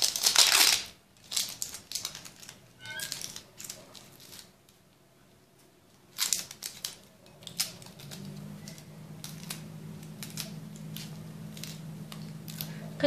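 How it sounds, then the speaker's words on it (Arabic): Dry papery skins being peeled and crushed off an onion: several crisp crackling bursts close by, separated by quiet gaps, with a low hum in the later part. "نأخذ البصل ونستخلص القشر"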